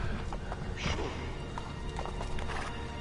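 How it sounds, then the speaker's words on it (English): Horse hooves clip-clopping in the video game Assassin's Creed 2, steady close hoofbeats amid a busy game soundscape, with a brief whinny-like burst near the middle. "It was a horse, yeah."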